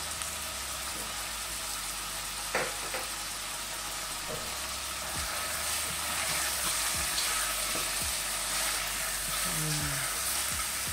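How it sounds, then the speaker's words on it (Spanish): Rabbit pieces sauté in a frying pan, a continuous even sizzle and crackle close by, with occasional utensil scrapes and clicks and faint voices in the background. "bueno, pues ya lo tenemos más o menos sarteado"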